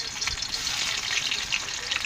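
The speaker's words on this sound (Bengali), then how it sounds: "তেল বনা গেছে, পটলগুলো দিয়ে দিচ্ছি একে একে।" Pieces of pointed gourd (potol) go into hot oil and fry with a steady, close sizzle and crackle that holds at an even level throughout.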